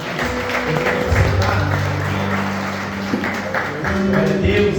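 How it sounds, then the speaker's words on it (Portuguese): A church congregation at a Sunday family service claps along in rhythmic bursts, the hand claps mixed with sustained singing or music tones throughout. "E as palmas louvam o Senhor em nome de"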